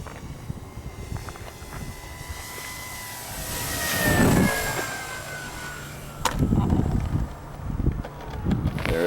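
A giant J-Power P-51 Mustang RC plane with a 61-inch wingspan comes in to land in gusty wind, its engine drone and a falling whine heard close over heavy buffeting wind noise on the microphone.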